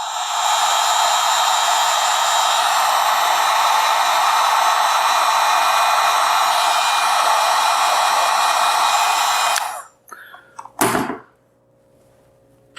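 A heat gun warms the shaft of a Fox Float 34 suspension fork with a loud, steady blowing roar for about ten seconds, then cuts off, followed by a few brief clicks.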